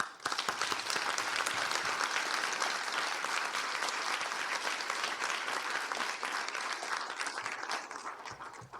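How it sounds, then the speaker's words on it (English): An audience at the DementiaHack Toronto 2015 finals opening applauds to welcome John Tory, with dense, sustained clapping from a large crowd that holds steady and then begins to thin out near the end. "please put your hands together and help me in welcoming our John Tory"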